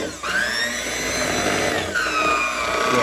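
An electric hand mixer whips cream into key lime pie filling with a steady, loud motor whine that shifts pitch slightly as the speed changes, with no voices.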